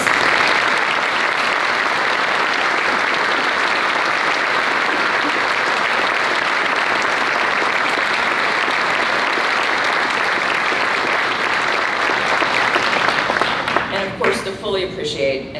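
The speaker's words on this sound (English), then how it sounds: "Please join me in giving Karen a round of applause" Sustained audience applause for a retiring art professor at a college ceremony, dense and steady for about thirteen seconds before thinning out into scattered claps at the end.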